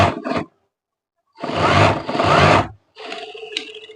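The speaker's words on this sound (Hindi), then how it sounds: "इसको दोबारा से हम फिर सिलाई लगाएंगे एक पैर की सिलाई से।" An electric sewing machine stitches the lower part of a trouser pocket in short bursts, a loud buzzing run around a second and a half long, then a quieter rattling stretch, with silent pauses between and no talking.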